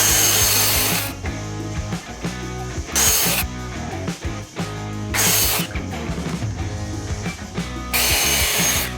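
A saw cutting through a wooden countertop during a home renovation, loud rasping strokes broken by brief bright bursts of high-pitched cutting noise, repeating over several seconds without speech.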